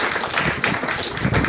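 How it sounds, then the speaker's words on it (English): Audience clapping steadily as a round of applause at an afternoon thank-you gathering in Nassau, Bahamas, a dense, even wash of hand claps lasting the whole short moment. "So give him a round of applause."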